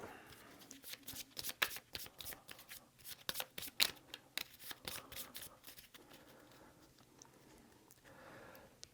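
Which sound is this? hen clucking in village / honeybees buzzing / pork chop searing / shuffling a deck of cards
shuffling a deck of cards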